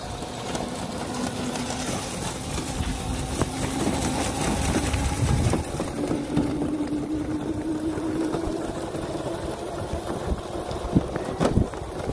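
A scratch-built electric go-kart running flat out: a steady, close electric motor whine that climbs slowly in pitch over a rough rumble of wheels and wind, with a few sharp knocks near the end.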